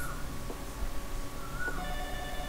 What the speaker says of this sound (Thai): เสียงโทรศัพท์